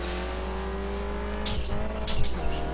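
A Spec Racer Ford race car pulls away from a standing start at Infineon Raceway, its engine droning loud and close from inside the car, with a rising rev and a stumble on a missed shift into second.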